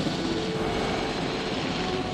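Helicopter in the Jurassic World Evolution video game, a steady droning rotor and engine hum that holds constant and fairly loud, with no talk.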